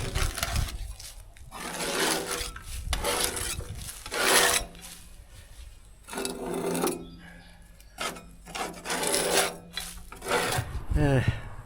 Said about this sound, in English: I guess I better get a scraper out and start cleaning this thing up.